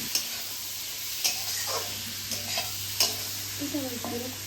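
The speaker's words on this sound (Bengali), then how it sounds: "এখন রান্না করছি ঝিঙে আর আলু, চিংড়ি মাছ" Ridge gourd, potato and prawns fry in a pan with a soft steady sizzle, punctuated by several sharp stirring clanks of a utensil against the pan, close up with no talking.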